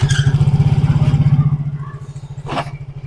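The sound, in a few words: manual motorcycle engine revving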